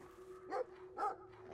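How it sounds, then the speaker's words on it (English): A pug in Brothers: A Tale of Two Sons, on a forest farm, gives two short barks about half a second apart over a steady game-music drone. "Ugly looking pug coming our way."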